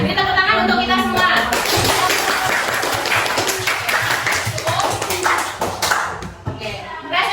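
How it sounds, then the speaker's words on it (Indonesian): Classroom group in Banda Aceh clapping after a presentation, a close, loud burst of many hands patting fast and unevenly, mixed with voices and cheering, easing slightly toward the end. "Beri tepuk tangan untuk kita semua."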